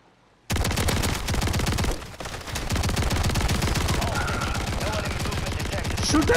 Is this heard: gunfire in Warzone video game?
yes